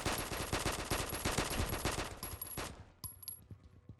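Rapid automatic gunfire from the mobile FPS game Combat Master, a loud sustained burst of fast shots for nearly three seconds, then a few scattered separate shots after a brief break.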